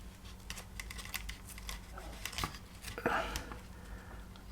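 Masking tape crinkling and being trimmed on a 1/48 Miniart Junkers F13 model kit, a series of close, sharp ticking crackles and snips with a louder rustle toward the end.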